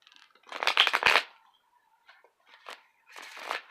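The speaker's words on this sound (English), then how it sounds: "So I'm gonna do one more shuffle" Tarot cards are shuffled in two quick riffling bursts close to the microphone, followed by softer card taps and a final riffle in an otherwise quiet room.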